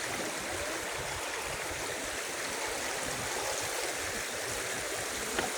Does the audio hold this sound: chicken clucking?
no